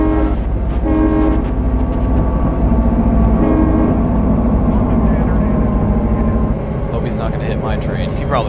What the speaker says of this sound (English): Here comes another freight.